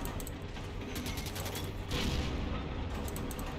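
Dense gunfire from the WWII shooter game Heroes & Generals: a continuous clatter of rapid shots with a louder burst near the middle, close and steady throughout.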